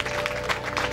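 Audience applause at an event in Ixcotoyac, a brief burst of steady, mid-distance clapping from a crowd.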